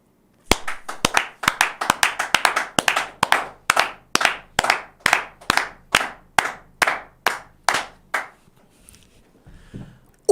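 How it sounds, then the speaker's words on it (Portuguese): A round of applause in a steady rhythm of about seventeen sharp, close claps that slows slightly and fades out near the end. "Eu vou pedir uma salva de palmas."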